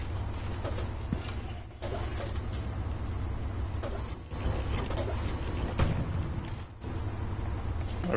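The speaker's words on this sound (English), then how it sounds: "That sounds like a tank." A Sherman tank in the Hell Let Loose war game rumbles and creaks with a low engine drone, mechanical clanks and track squeaks, steady and fairly close with brief dips.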